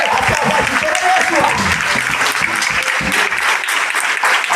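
A church congregation claps and cheers together in a loud, steady burst of applause that carries on throughout, with voices mixed into the clapping.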